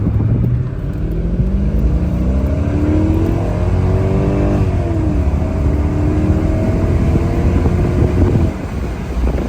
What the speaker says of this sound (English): We'll go for one more acceleration here.